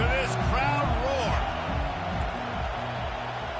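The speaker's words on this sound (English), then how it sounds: "listen to this crowd roar" A stadium crowd in a college football video game roars as a broad, constant wash of noise, with whoops rising above it near the start and a commentator talking over much of it.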